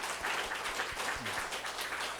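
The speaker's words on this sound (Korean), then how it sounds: "우리 그런 형제들에게 성도님들에게 박수 칩니다." A church congregation at a Sunday worship service claps faintly and steadily for a couple of seconds, a soft, even patter of applause with no voices over it.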